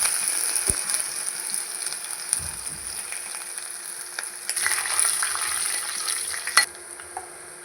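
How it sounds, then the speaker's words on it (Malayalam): Mustard seeds, fenugreek and ginger frying in hot oil for a fish curry, giving a bright steady sizzle with scattered pops, crackles and stirring scrapes, close and loud throughout. "എണ്ണ ചൂടായി കടുക് ഇട്ട് കൊടുക്കുക."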